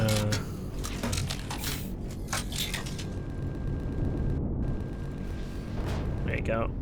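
Ship weapons fire continuously to carve into a mountain in the space game Empyrion, a dense rumbling barrage of booms and crushing impacts, with someone talking over it.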